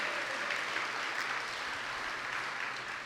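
A gala awards crowd applauds special recognitions with a steady, even wash of clapping, moderately distant and sustained for the whole stretch.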